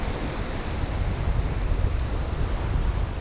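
Gentle ocean waves wash onto a beach outside Malabo, a steady broadband surf rush mixed with wind noise that continues evenly for a few seconds with no voices.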